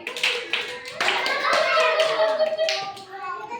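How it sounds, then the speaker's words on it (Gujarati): Young children in an anganwadi preschool clap their hands together in a quick, uneven burst of close claps, mixed with children's voices and an adult speaking. "તાળી પાડો બધાય."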